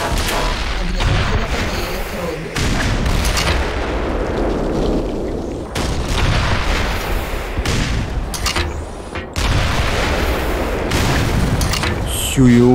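A tank is blown up in the video game Black Mesa amid repeated loud booms, blasts and bursts of gunfire, with heavy rumbling between them and voices faintly underneath.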